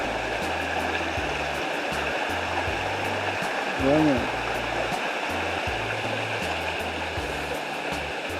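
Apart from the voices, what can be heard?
river water flowing, Land Settlement River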